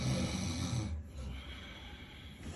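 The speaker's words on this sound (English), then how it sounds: "You dey carry your snore, they disturb me." A man asleep snores in a loud, rough snort that stops abruptly, followed by a quieter breathy stretch, heard up close in a still room.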